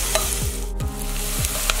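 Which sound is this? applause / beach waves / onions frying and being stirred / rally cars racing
onions frying and being stirred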